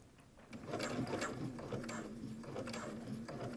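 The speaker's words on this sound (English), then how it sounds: "we're going to sew over to the next corner, same thing, pivot, sew over to the next corner" A sewing machine stitches around the corners of a belt with a quiet, steady mechanical whir and a rapid, even ticking of the needle, heard close up and without voices.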